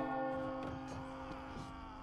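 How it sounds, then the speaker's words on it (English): A bell tolls in the medieval combat game Chivalry 2, a few faint metallic strikes ringing over a sustained humming tone, quiet and somewhat distant. "You gotta pay obeisance to the bell."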